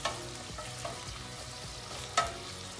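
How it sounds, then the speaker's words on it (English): Vegetables sizzle steadily in hot oil for a spicy vegan bean soup, with soft scraping and clacking strokes as they are stirred in the pot; a quiet, close frying hiss with no talk. "stir everything in the oil, get it nice and hot"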